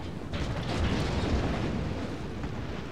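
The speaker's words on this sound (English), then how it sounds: "Cannon fire?" Cannon and howitzer fire from a Napoleonic-era battle in Empire: Total War, a dense continuous rumble of booming artillery with no voices over it.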